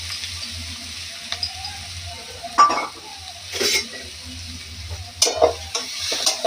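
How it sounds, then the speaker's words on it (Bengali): Onions and spices mixed in a wok ahead of adding lotte fish, a quiet sizzle under several bursts of spatula scraping and clinking against the pan, a low hum beneath. "সব একসাথে দিয়ে কড়াইতে মেখে নিচ্ছি"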